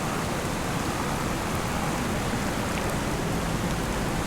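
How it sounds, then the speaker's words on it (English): Heavy rain in the video game Farming Simulator 25, a steady dense hiss of downpour that holds evenly throughout with no other sounds over it. "it's raining cats and dogs."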